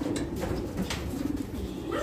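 Pigeons coo softly in a loft after feeding, low repeated murmuring calls running steadily through the clip with light rustling and no talk.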